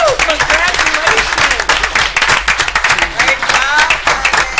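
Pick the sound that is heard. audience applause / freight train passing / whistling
audience applause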